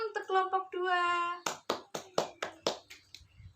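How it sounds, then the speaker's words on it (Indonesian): In a primary school classroom, a voice speaks briefly. Then students clap for a student group in unison, giving about nine sharp, evenly spaced claps in a steady rhythmic pattern, close and clear. "Tepuk tangan untuk kelompok 2."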